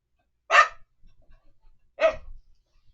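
Two sharp barks from a house dog nearby, about a second and a half apart, each brief and loud with quiet shuffling noise between them.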